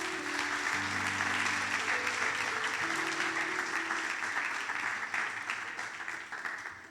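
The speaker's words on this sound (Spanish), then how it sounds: "Dale un fuerte aplauso al Señor." Congregation applause during a Spanish-language church service, sustained dense clapping from the assembly with sustained tones from musical instruments underneath, tapering off near the end.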